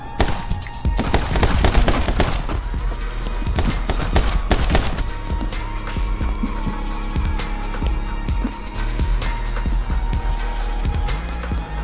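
Rapid gunshots in the video game My Friend Pedro, loud dense bursts of sharp cracks crowding the first few seconds, then scattered shots continuing over a busy game soundtrack.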